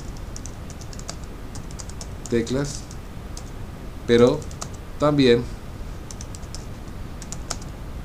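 A computer keyboard clicks with light, scattered keystrokes throughout, heard under someone speaking in Spanish.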